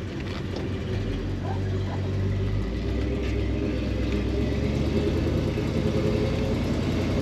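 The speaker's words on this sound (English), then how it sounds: "take the Wagoneer out on its first drive since we got it running again" A Hemi-swapped Jeep Grand Wagoneer drives along on its first outing since being revived, its V8 giving a loud, steady, close-up engine rumble with road and wind noise throughout.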